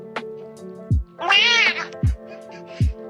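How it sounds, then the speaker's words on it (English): A cat meows loudly and close up in one drawn-out, wavering call, framed by several short low thumps and sparse background tones. "cats can make over 100 different sounds?"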